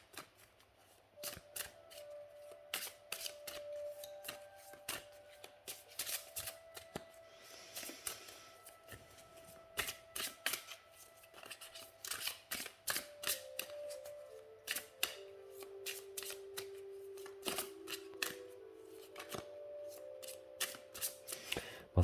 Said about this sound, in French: c'est vrai qu'il n'y a pas beaucoup de cartes, hein, donc forcément c'est un petit peu plus compliqué à battre